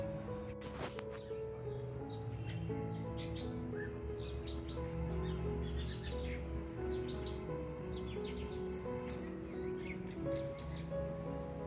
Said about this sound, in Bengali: পাখির কিচিরমিচির শোনো।